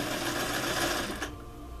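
A sewing machine stitching a placket zipper, its fast, even motor whir loud and close for about a second before stopping abruptly.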